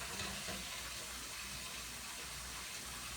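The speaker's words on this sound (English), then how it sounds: "you're just going to fill it most of the way with water" A kitchen tap runs steadily into a cooking pot, giving a soft, even gush of water that continues unbroken and fairly faint, with no speech.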